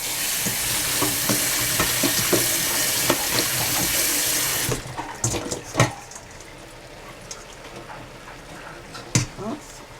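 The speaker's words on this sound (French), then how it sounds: "je vais les éplucher, les rincer. Là, pour bien les rincer." Running tap water splashes steadily over freshly peeled mushrooms being rinsed in a sink, then cuts off abruptly midway, leaving a few scattered clatters and handling knocks close by.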